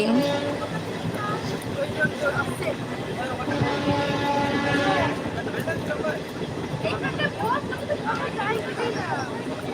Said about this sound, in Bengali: দীঘা যাচ্ছি ট্রেনে আছি